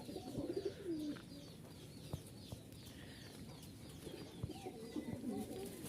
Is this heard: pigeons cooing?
yes